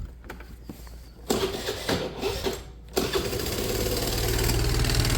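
A Piaggio Fly 100cc scooter cranks briefly, catches after a moment and settles into a steady, close-up idle that grows slightly louder.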